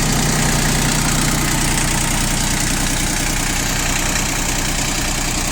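A Yanmar F15D tractor with a self-deepening rotary tiller idles steadily close by, its diesel engine producing a dense, even rumble with a constant knocking pulse across the whole stretch.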